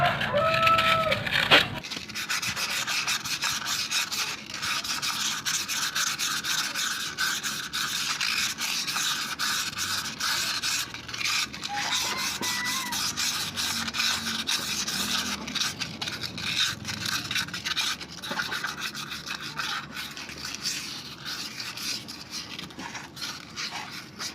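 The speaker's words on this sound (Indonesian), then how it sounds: "Langkah selanjutnya membersihkan sekaligus mengamplas bagian tromol." A motorcycle drum brake is cleaned and sanded by hand, producing a continuous close, rough abrasive rubbing that carries on steadily for the whole stretch after a brief pause at the start, with no speech.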